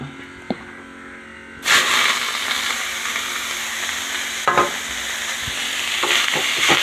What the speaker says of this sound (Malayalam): അതൊന്ന് മൂക്കുമ്പോഴത്തേക്ക് നമുക്ക് ഈ ചീര അങ്ങോട്ട് ഇട്ട് കൊടുക്കാം